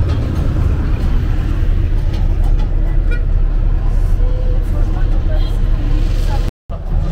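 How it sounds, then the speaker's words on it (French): Busy road traffic of many cars maneuvering around a barracks entrance in France, a loud continuous low engine rumble with passing vehicles, one brief dropout near the end, and a voice talking over it. "il y a des voitures de partout"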